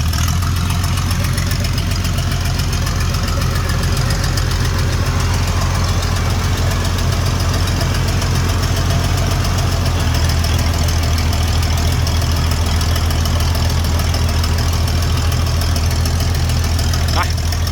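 A steady, loud S700 engine idles with a constant low rumble and rhythmic knock, running unchanged throughout.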